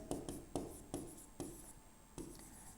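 Chalk or pen writing on a board during an engineering maths lecture on vector calculus, a series of short sharp strokes and taps in irregular rhythm, close and fairly quiet, with no voice.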